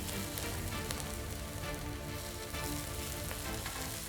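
Chopped onions frying steadily in a hot pan, the base for cauliflower egg fried rice, give a continuous dense sizzle with fine crackling that holds level throughout, close up with no talking.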